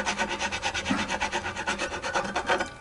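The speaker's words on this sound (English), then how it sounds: "So I can feel it grinding the wound strings there quite nicely." A file rasping across a bone guitar nut and the wound strings of a Fender USA hybrid Strat, quick rhythmic back-and-forth strokes, close and fairly loud, with no talking.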